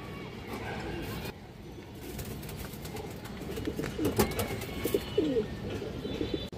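A female pigeon being shown for sale gives low repeated coos close by, partly under someone talking and some handling noise.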